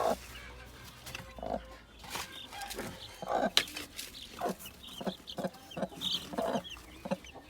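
Newly hatched chicks and their mother hens cluck and peep in short bursts, close and fairly quiet, against a dim farmyard background.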